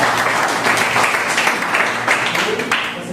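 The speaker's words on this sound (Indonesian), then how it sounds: "Tepuk tangan bagi kalian semuanya." Classroom applause from a group of students, a dense burst of clapping lasting a few seconds, fairly loud and close, with no talk over it.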